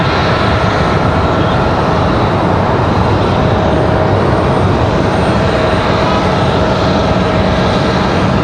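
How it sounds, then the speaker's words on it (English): A FedEx Boeing 767-300 freighter landing at Raleigh-Durham International Airport, a loud, steady broadband jet roar that holds unbroken throughout. "FedEx 785 coming in from Memphis, Tennessee. 1 hour, 27 minutes of flight time for our 767-300 freighter."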